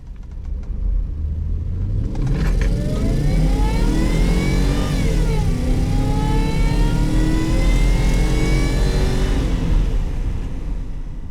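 A supercharged Range Rover engine with 165,000 kilometers revs up smoothly, pitch rising through the gears with a brief dip, loud and close, no talking.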